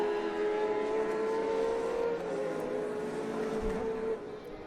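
Superbike motorcycles race at Canadian Tire Motorsport Park in a 2013 Mopar Pro Superbike round, with a sustained engine whine from a moderate distance that shifts pitch as the bikes pass and then fades slightly.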